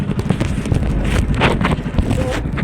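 Gusty wind buffeting the microphone in strong rumbling bursts on a boat in choppy sea, with splashing water and a faint hum in the background.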